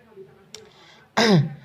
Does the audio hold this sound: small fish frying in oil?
no